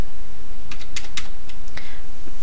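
A few scattered computer keyboard key presses, a hotkey tap followed by arrow keys, sound as sparse light clicks close by over a faint steady background hiss, with no talking.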